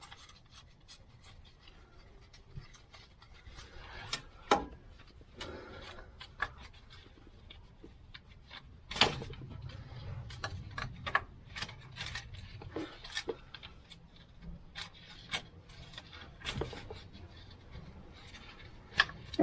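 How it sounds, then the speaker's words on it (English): Oil filter wrench working on the oil filter of a Land Rover Defender 300 Tdi, giving close, scattered metallic clicks, scrapes and knocks at an uneven pace, fairly faint overall. "I need a little bit more space on the oil filter wrench"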